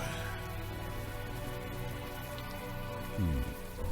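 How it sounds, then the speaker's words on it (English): Warm rain falling in the video game Unavowed, a dense, steady hiss of drops with a low muffled thud near the end. "the warm rain is coming down"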